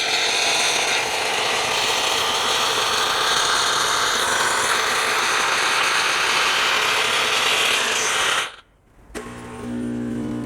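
Oster Prima Latte II coffee machine brewing a latte, a steady loud mechanical whirring and rattling that runs unbroken, cuts out briefly near the end, then resumes as a lower hum.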